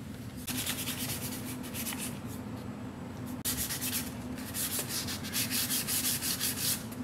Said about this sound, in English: this is still the first layer of sanding on the body.